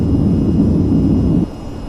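In the VTOL VR flight game on Quest 2, a jet airplane engine roars at full throttle on takeoff, a loud, steady low rumble that drops in level toward the end, with no talk.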